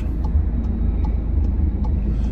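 Rush hour street traffic with many vehicles and a train nearby, a continuous loud low rumble of engines with faint repeated ticks on top, no voices.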